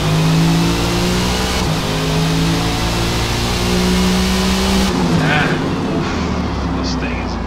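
A Corvette ZR1 in the Forza Motorsport racing game launches down a drag strip, its engine revving hard in loud, sustained tones that climb and shift pitch, with a voice talking over it.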